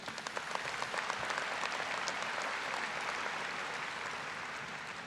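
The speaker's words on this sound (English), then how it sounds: "Give yourself another round of applause, please" Graduates at a college commencement ceremony break into sustained applause, a dense wash of many hands clapping steadily at moderate volume throughout, with no voices rising above it.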